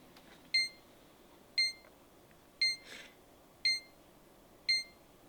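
A SimpliSafe home security alarm panel beeps five times at a steady, slow pace, each short high chirp evenly spaced in a quiet room.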